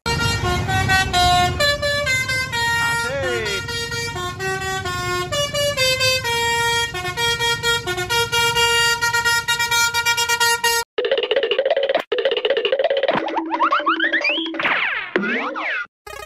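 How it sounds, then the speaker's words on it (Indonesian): A bus telolet horn plays a rapid melodic sequence of bright, loud tones, followed by a shorter burst of different horn notes after a brief break. "Mobil bus telolet"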